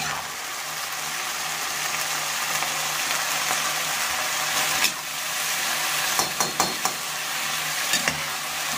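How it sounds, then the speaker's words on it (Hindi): Onion and macaroni pasta frying and being stirred in a pan, a steady loud sizzle with scraping stir strokes and a few clinks near the end. "प्याज हो गया हल्का सा फ्राई, ज़्यादा फ्राई नहीं करेंगे प्याज को"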